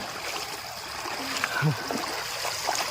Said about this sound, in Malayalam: നടുവി കൂടെ കണ്ട ഒരു അരുവി ഒഴുകുന്നുണ്ട്. ഭയങ്കര മനോഹരമായിട്ടുള്ള അരുവി.